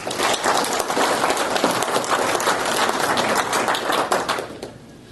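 A forum audience at a county meet-the-candidates event claps for the organizers in a dense, loud burst of applause that holds steady for several seconds, then tapers off at the end.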